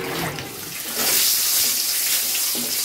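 Drumsticks (moringa) are washed under running water, a steady splashing rush that swells and stays loud from about a second in, with faint handling noises underneath.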